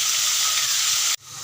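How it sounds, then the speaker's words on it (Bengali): Potatoes fry in hot oil in a pan, a loud, close, steady sizzle that cuts off abruptly near the end. "আলুটা লাল করে ভেজে নেব।"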